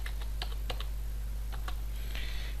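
Password being typed on a computer keyboard, a few scattered quick keystroke clicks in short bursts over a steady low background hum.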